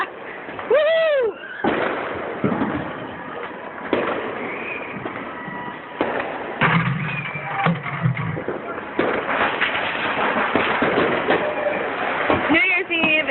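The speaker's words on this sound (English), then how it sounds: "Gun shooting, fireworks." New Year's Eve fireworks and gunshots in Philadelphia pop and boom repeatedly at varying distances, loud bursts scattered through a noisy outdoor scene, with voices and a passing horn-like tone mixed in.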